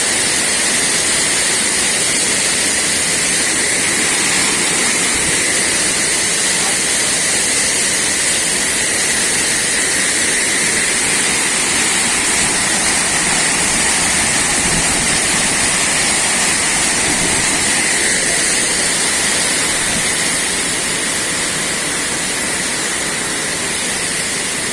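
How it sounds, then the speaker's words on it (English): Ghagara Waterfall in Odisha roars as a continuous loud broadband rush of falling water, steady and unbroken throughout with no voices. "Ghagara Waterfall"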